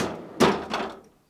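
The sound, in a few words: GE French door refrigerator freezer door opening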